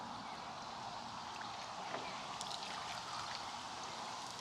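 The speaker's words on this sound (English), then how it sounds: "Time for the rinse cycle." Water rinsing on a narrowboat during a heatwave: a quiet, steady trickling wash of flowing water with occasional small splashes.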